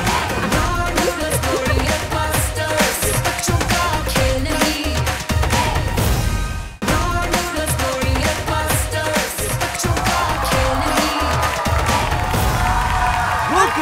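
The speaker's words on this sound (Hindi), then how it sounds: "जोरदार तालियां।" A studio audience at a game show grand finale applauds and cheers loudly and continuously, with whoops and shouts over steady clapping and music in the background.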